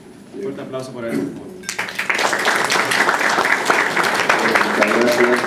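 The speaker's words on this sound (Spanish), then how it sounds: "Un fuerte aplauso para él." A speaker's voice gives way to loud audience applause at a university lecture event, the clapping starting abruptly and swelling into a sustained, dense round from the crowd.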